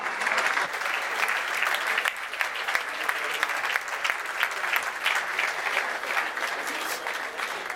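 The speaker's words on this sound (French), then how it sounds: "Mesdames et messieurs, ils méritent vos applaudissements" An audience at a French corporate awards evening applauds the winners, with dense, even clapping that stays steady and loud throughout.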